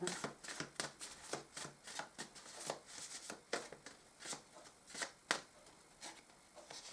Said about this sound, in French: c'est la raison pour laquelle je bats et tire vos cartes au préalable